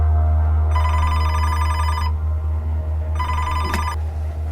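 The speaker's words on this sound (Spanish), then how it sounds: "¿Está sonando el teléfono?" A telephone rings in a forest setting, two loud electronic ring bursts separated by a pause, with a low steady hum underneath and no talking.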